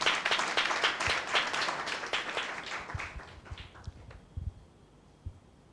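Congregation clapping loudly in response to a pastor's sermon, a burst of applause that starts strong and gradually fades to a few scattered claps.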